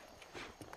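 Horse hooves clip-clop in the western video game Red Dead Redemption, a few close, distinct hoof strikes in quick uneven succession with no talk over them.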